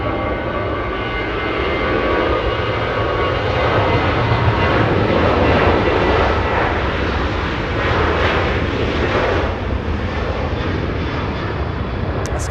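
A jet airliner departing Los Angeles International Airport bound for Vancouver, its engines a loud, steady broadband roar that holds strong across the whole stretch with no voices.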